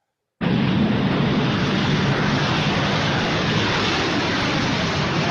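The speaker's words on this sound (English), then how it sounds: "let me go back here so you see this beautiful airplane take off" A Boeing B-47 jet bomber roars on takeoff, a dense, loud, continuous engine rumble that starts abruptly after a moment of silence and holds steady without any voices.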